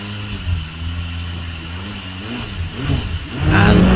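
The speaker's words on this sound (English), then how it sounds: "Now it's down to the 4-litre Judd to power the Gould across the parkland." The Gould hillclimb car with its 4-litre Judd engine at the Wiscombe Park start line: the engine hums and revs with rising pitch, then bursts into a loud, close, roaring launch at the end.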